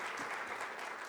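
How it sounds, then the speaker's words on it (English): A brief burst of dense, sustained audience applause for panelists at a retail business summit, steady crowd clapping with no voices on top. "a big thank you and a round of applause to my panelists"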